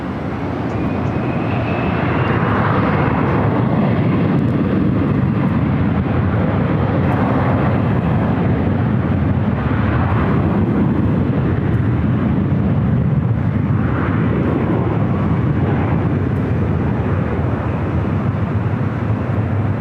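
A jet airliner taking off at Los Angeles International Airport (LAX) makes a loud, continuous engine roar heard from a nearby hotel, swelling and rumbling steadily with no talk over it.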